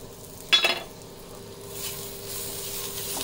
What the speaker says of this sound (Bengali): এবার আমি ফোড়নে দিচ্ছি জিরে, সর্ষে, সামান্য হিং আর সাদা তিল